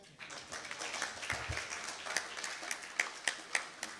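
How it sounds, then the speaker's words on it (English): Audience in a conference room gives a round of applause, sparse and uneven claps with a few sharp nearby hits, fairly quiet and short-lived. "A round of applause."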